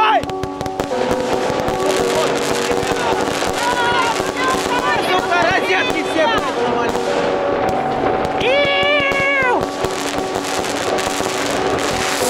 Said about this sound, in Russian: Сейчас здесь будем запускать салют.